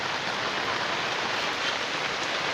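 Rain falls steadily in a dense, even hiss, constant and fairly close, with no voices or other sounds over it.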